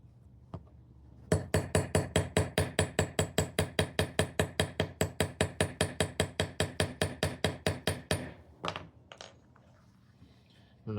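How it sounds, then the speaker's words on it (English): A hammer strikes a snap fastener on a Dainese Smart Jacket LS Sport in a rapid, even series of about thirty sharp, close metallic taps, followed by a few scattered knocks as the work stops. "I'm going to set that snap back down on here and hammer it home a little bit harder."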